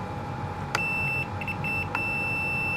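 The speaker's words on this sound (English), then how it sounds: "And we have a beep, that means we have continuity, so that button is working." A multimeter set to continuity gives a steady high electronic beep while probing a Bobcat controller's bottom button; the tone holds through the whole stretch with two sharp clicks as the probes touch, over a faint background hum.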